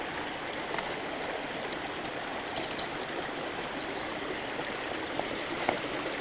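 Mountain stream at a water crossing on a hike to Black Dome, a steady, soft rush and burble of flowing water heard alone, with no voices.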